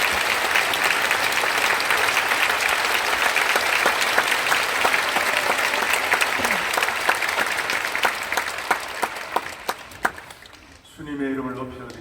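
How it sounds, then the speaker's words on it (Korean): A church congregation at a Korean pastors' appreciation service gives a long, dense round of encouraging applause, loud and sustained, then dies away near the end as a voice begins speaking. "우리 목사님 더 힘내시라고 우리 격려의 박수 한번 어떨까요?"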